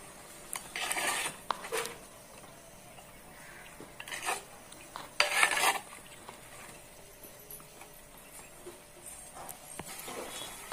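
Metal spoon scraping and clinking against a pot while shrimp and drumstick curry is stirred, a few clattering bursts with quieter gaps between.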